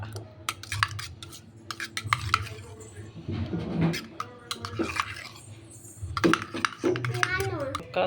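Egg omelette batter is mixed briskly in a tumbler, with rapid metallic clinks and stirring taps of a utensil against the vessel while someone talks.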